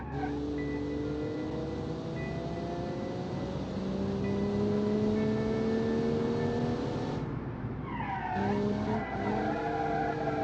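An Aston Martin race car in the BeamNG Drive game accelerates through gears with rising engine whine, tires squealing and skidding near the end, a steady close mechanical roar with no talking.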